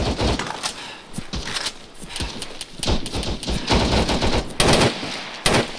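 Sustained gunfire in the military shooter game ARMA 3: dense bursts of automatic rifle and machine-gun fire with scattered single shots, loud and close, continuing through the whole stretch.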